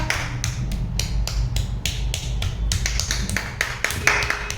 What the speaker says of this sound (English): Let's clap for Anahita